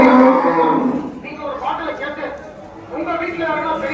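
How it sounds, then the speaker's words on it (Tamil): Cattle moo loudly at an open cow market in Vaniyambadi, several drawn-out lowing calls close by, while someone talks over them and crowd chatter murmurs in the background. "இதெல்லாம் பார்த்தீங்கன்னா ஒரு மேற்குத்தி பசு மாடுங்க"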